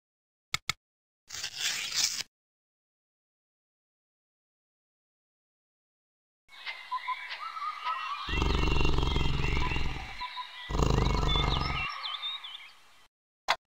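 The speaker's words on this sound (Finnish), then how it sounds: "Tiikeri. Tiikeri on suurin kissaeläin." A tiger roars from a 1997 children's CD-ROM, two loud, close, rumbling bursts back to back after a brief unrelated sound near the start.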